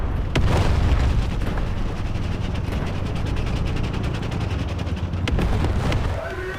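Artillery and tank gunfire in War Thunder Mobile, a British SPG tank destroyer battle: a dense, continuous roar of rapid, close-spaced blasts with two sharper bangs standing out, loud throughout.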